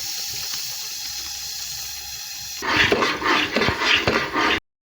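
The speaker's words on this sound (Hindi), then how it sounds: "इसमें पानी शामिल करेंगे" Water is poured into besan halwa cooking in a pan, a sudden close splashing and sizzling burst that follows a quieter stretch of low kitchen hum, then cuts off abruptly.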